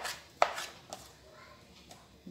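A kitchen knife strikes a cutting board while chopping tomatoes: a handful of sparse, crisp taps, one sharper than the rest, close and fairly quiet with no voices.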